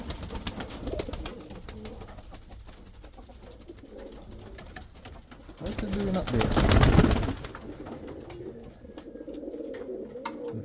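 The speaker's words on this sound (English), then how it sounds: "I now see him cooing and stuff and going after feed." Indian Fantail pigeons coo in a loft, low soft murmuring calls with fluttering and rustling, a louder burst of wingbeats midway, while someone speaks briefly nearby.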